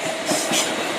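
A Class 455 electric train pulls out of Clapham Junction, a loud close rumble of wheels and carriages rolling past with faint rail clatter.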